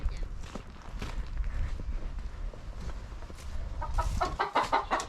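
Chickens raised as meat birds move about and cluck in their coop near a nesting box, with scuffling footsteps and rustling throughout and bursts of louder clucking toward the end.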